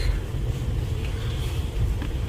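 Steady low rumbling wind buffeting the microphone at a house build site, constant and fairly loud throughout, with no voices.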